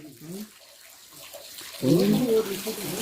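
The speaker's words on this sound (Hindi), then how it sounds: "लगातार यहाँ पानी झरता रहता है 24 घंटे 12 महीने।" Spring water spills continuously from a stone gomukh spout at Pongezara shrine, a steady splashing rush. Someone talks over it, and the water grows louder partway through.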